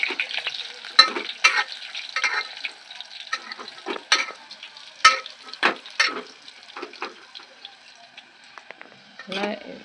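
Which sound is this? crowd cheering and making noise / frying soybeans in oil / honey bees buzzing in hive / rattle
frying soybeans in oil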